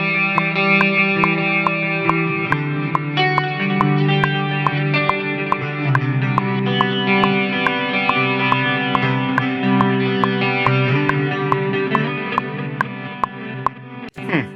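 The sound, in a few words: electric guitar through Qi Etherealizer effects pedal, with click track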